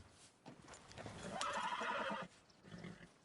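A horse in Red Dead Redemption 2 lets out a loud, drawn-out whinny alongside clip-clopping hooves, the neigh swelling in the middle and then cutting off before softer hoof sounds resume.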